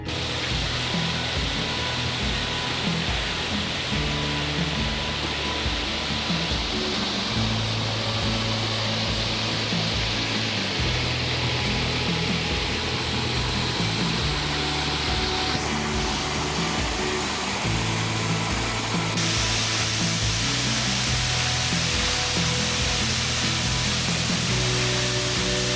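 A tall waterfall near Franklin, North Carolina roars as a dense, steady wash of broadband rushing noise, constant and loud for nearly half a minute with no voices.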